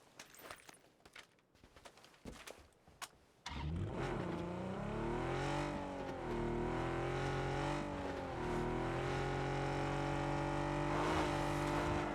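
A car engine in the video game PUBG idles briefly with faint clicks, then roars up loudly and revs in rising and falling sweeps, holding a strong, continuous drone to the end.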